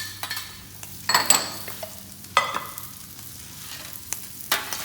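Onion and garlic frying on a flat top grill, with a soft steady sizzle under scattered clinks and scrapes of a utensil against the metal surface.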